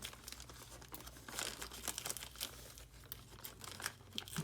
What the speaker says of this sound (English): So let me try to peel off what I can